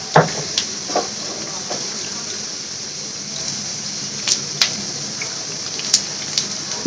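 Eggplant and potato dropped into hot oil in a pan, a soft continuous sizzle punctuated by scattered sharp pops and taps of spattering and stirring, fairly quiet, no talk.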